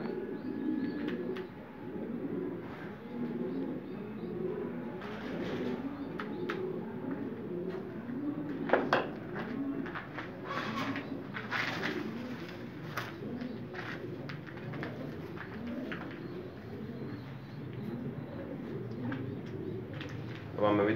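Several pigeons cooing close by in a loft, their soft repeated coos rolling on almost without a break, mixed with light chirps, clicks and shuffling, with someone talking over them.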